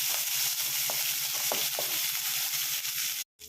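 Spices and turmeric frying in hot oil in a pan, a steady close sizzle with a few soft stirring clicks, cutting off abruptly near the end.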